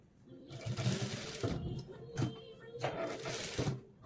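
A sewing machine stitches fabric in short bursts of rapid mechanical whirring, close by, with pauses between runs and a voice talking faintly in the background.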